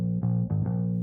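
Thick, buzzy synth bass from a Native Instruments Clean Plec Bass preset with distortion, playing a short phrase of sustained notes with soft re-attacks, loud and alone.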